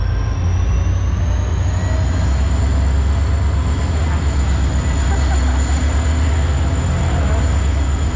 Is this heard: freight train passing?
yes